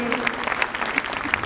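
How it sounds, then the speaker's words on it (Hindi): An audience at a Shivratri and inauguration programme claps in a short burst of scattered hand claps heard under a speaker's voice. "ताली बजा दीजिए।"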